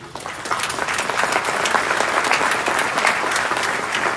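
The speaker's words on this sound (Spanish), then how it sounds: "Eso merece un fuerte aplauso." Loud, sustained audience applause at a live event on men against violence, many hands clapping in a thick, continuous burst that stays strong from start to finish.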